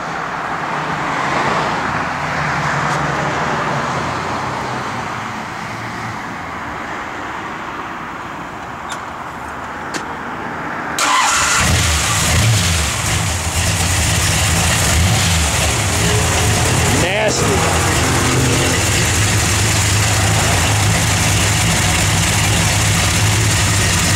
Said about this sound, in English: Wait till Dale fires this thing up